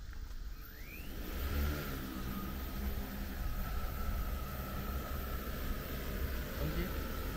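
A training drone lifts off, its motors rising into a steady whine with a brief upward sweep at the start, heard at moderate distance over wind and outdoor noise, with a person speaking.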